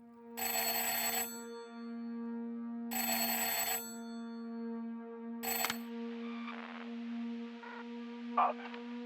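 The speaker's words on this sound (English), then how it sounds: "listening to a phone call you receive on your chatter" A chatter phone in a video game rings in three long bursts of an electronic bell, loud and close with silent gaps between, the last burst cut short before faint clicks and tones follow.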